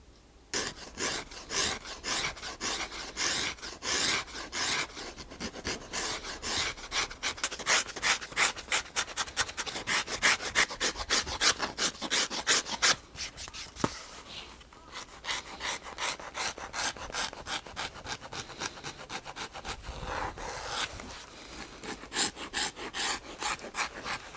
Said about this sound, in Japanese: ガラスでこんな感じに削りました。